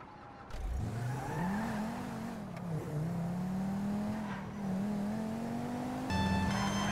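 A car in the Grand Theft Auto V story mode pulls away, its engine revving up and holding a steady droning note as it drives off, loud and close with no talk.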